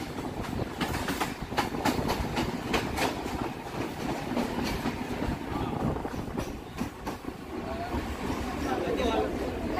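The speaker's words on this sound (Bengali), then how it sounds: "ট্রেন ছাড়লো বালিগঞ্জ থেকে।" A train pulls out of Ballygunge station near Kolkata, steady rumble with rhythmic clickety-clack of wheels over rail joints, heard from inside a carriage with passenger chatter beneath.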